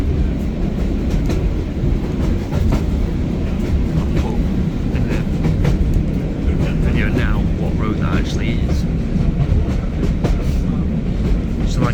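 A heritage diesel locomotive pulls a train through a valley on the East Lancashire Railway, heard from on board as a constant loud low rumble with rhythmic wheel clatter and occasional squeals, with people talking throughout.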